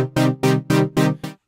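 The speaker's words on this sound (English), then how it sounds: "you can hear the sawtooth definitely affecting the filter and giving us that relentless pulse" Synthesizer sawtooth patch pulsing through a filter, five loud, evenly spaced buzzy throbs with the last one cut short, alone.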